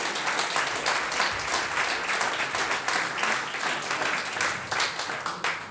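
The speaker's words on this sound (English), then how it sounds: "that deserves a round of applause or what?" Sustained audience applause fills the room at a cycling club awards night, many hands clapping steadily and densely at moderate loudness with no speech over it.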